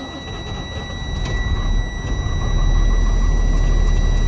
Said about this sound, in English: Who wants to hear what a compressed natural gas truck sounds like?